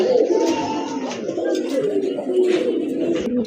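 A pair of yellow Lahori pigeons in a loft coo continuously, a close, throaty murmuring that rolls on without pause, with faint chirps above it and no talk.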